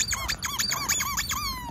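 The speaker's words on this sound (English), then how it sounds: "Bro, he loves one that squeaks." A dog gnaws on a squeaky toy, producing a rapid run of five or six loud, high squeaks in quick succession, close and alone.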